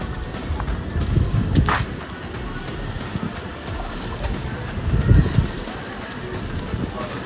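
Ginger and garlic sauté in a large pot for a mega-sized batch, giving a steady loud sizzle and crackle close by, with stirring surges now and then.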